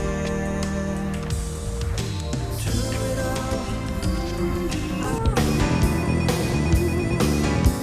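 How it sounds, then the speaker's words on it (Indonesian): A telephone rings with a repeating electronic ringtone while a call is being placed, layered over continuous background music, steady and fairly loud throughout with no one speaking. "Telepon Ryan"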